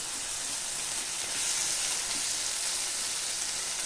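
Bombay duck (lote fish) fries in hot oil with a continuous, even sizzle that holds steady throughout, with no one talking.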